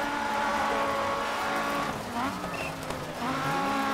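Cars racing and skidding in the video game Dirt 3, including a blue Mini: steady engine drone with shifting pitch and brief tire squeal in the middle, moderately loud throughout with no speech.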